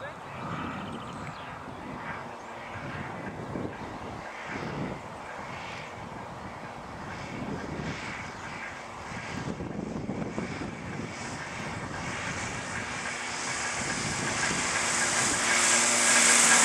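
Two Thruster microlight aircraft land at London Colney airfield, heard as a distant propeller engine drone under wind buffeting that builds to a louder roar near the end, with people talking nearby.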